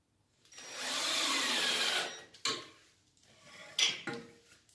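A power tool drives self-tapping metal screws to mount a boiler bracket on a plasterboard wall, heard as a two-second whirring burst and then several short bursts and clicks, close and alone.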